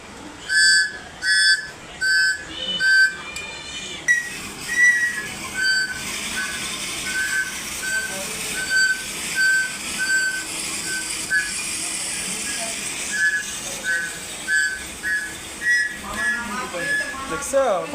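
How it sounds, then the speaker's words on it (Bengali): A handheld whistle is blown in short, shrill, repeated blasts, some clipped and some longer trills, close and loud, with a person talking around and between the blasts. "তুমি বাসি বাজাও"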